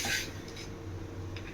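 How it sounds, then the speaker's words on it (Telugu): A knife cuts set muskmelon jelly into small cubes, giving a soft tap against the board at the start and another light click near the end, with a quiet kitchen background between. "దీన్ని ఇప్పుడు పీసెస్ కింద కట్ చేసుకుందాం."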